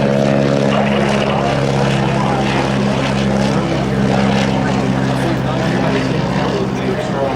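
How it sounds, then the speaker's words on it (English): Propeller airplane at a Shreveport, Louisiana air tour droning steadily overhead, its loud continuous engine hum holding level for several seconds. "That's a wonderful airplane."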